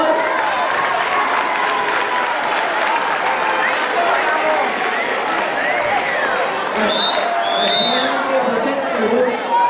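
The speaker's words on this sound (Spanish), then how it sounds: "Un fuerte aplauso, por favor." A crowd at a Galician scout festival claps loudly and continuously, with cheering and chatter mixed in and a few whistles rising through the dense, even applause.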